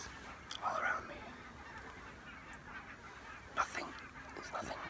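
Hundreds of barnacle geese surround a photography hide in Scotland, honking faintly from a distance, with a couple of clearer calls rising above a soft, steady background murmur.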